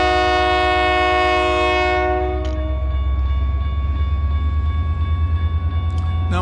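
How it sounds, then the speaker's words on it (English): A loud train horn from Engine 1510 blares a long sustained chord, then cuts off as the heavy rumble of the passing train continues nearby in downtown Olathe, Colorado. "And here comes the train."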